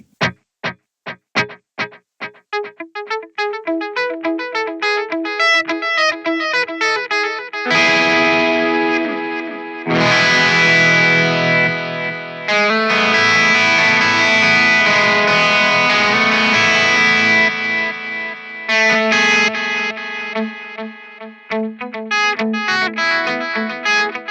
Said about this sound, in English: Tape delay.